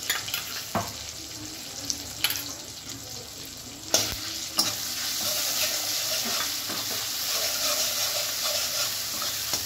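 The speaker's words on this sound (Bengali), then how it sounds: "এটা সর্ষে আর কাঁচা লঙ্কাটা আমি বেটে নিয়েছিলাম, সেটা আবার এখানে দিয়ে দিচ্ছি।" Mustard and green chili paste frying in a pan while being stirred for a Bengali rohu fish curry, with a steady close sizzle broken by a few sharp spatters and scrapes.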